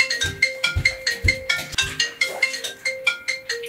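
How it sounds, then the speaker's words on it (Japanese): A phone ringtone plays a repeating melodic chime pattern, steady and fairly close, with about eight evenly spaced tonal bursts and no talking over it. "ちょっと電話出ていい？"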